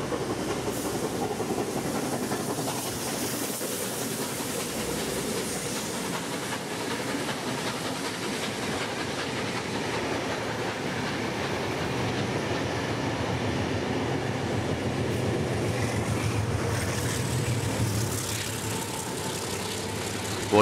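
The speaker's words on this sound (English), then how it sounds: "the Sydney Suburban train is making its way into the platform," A Sydney suburban train pulls into a station platform in New South Wales. Its loud, continuous rumble of wheels and engine mixes with a steady hiss, close by, with no talk.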